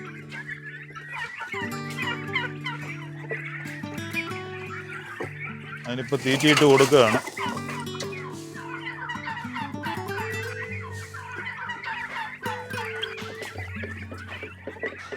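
A flock of turkeys gobbles and clucks nearby, with one loud burst of gobbling midway, while someone talks over them.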